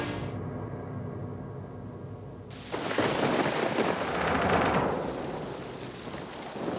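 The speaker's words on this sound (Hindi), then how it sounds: "पता नहीं कैसे जाऊंगी, इतनी बारिश हो रही, घर तक जाते तो भीग जाऊंगी।" Heavy rain pours steadily as a dense, close wash of noise that swells louder partway through and stays constant, with no voices.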